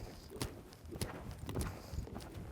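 Horse hooves cantering across an arena, a steady repeating three-beat rhythm of soft muffled thuds at moderate distance, continuous throughout with no talk over it.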